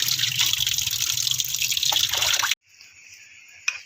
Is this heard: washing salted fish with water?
yes